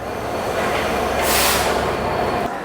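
Chilahati Express train standing at the Kamalapur railway station platform in Dhaka, a steady, loud mechanical rumble with a brief hissing surge midway before it settles.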